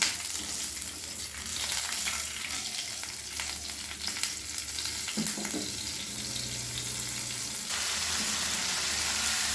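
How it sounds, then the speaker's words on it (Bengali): Nigella seeds and a slit green chili frying in a little mustard oil in a kadai, a loud continuous close sizzle with occasional stirring scrapes and a brief clatter midway. "এবারে কড়াই অল্প একটু সর্ষের তেল দিয়ে দিলাম। কালো জিরে ফোড়ন দিলাম।"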